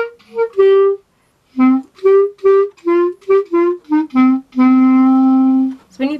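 The second part of the melody from a song is played as a tutorial demonstration: a run of clear, separate instrumental notes in a lilting rhythm after a short pause, ending on one long held tone.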